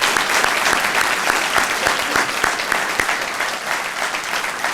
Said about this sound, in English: Please join me in a round of applause for all the generous donors to this fund